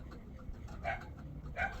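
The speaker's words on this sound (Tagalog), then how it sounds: "mayroong tumatahol na mga aso sa labas" Dogs barking outside, heard as two faint, distant barks about a second apart over a low background rumble.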